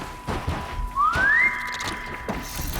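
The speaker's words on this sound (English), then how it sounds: "You heard the whistle." A short rising whistle in the video game Horizon Zero Dawn, a clear upward-sliding tone lasting about half a second over low game ambience.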